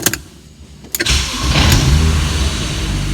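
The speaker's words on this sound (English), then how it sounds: "I want to start the engine and rev it" A BMW E36 car with an N54 engine, previously in limp mode, cranks briefly with clicking and a whir, then catches and settles into a loud, steady idle nearby.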